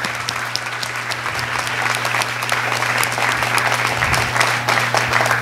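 Audience applause fills a room, a dense, steady wash of many hands clapping at close range with a low hum underneath.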